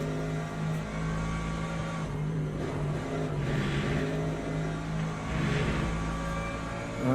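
LMP2 prototype race car engines during a Le Mans Ultimate daily race in the video game, a steady droning roar with a sustained hum and gentle swells as cars approach and pass.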